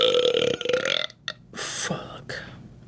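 A long, loud burp with a deep croaking tone runs for about a second, then after a short pause comes a breathy, noisy stretch with a second, smaller belch.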